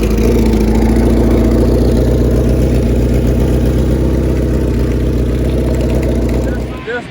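A 1983 Honda CB 1100S Super Sport-based motorcycle engine runs steadily at idle, a loud, close, continuous low rumble that holds for about seven seconds before easing off at the end, with voices faintly over it.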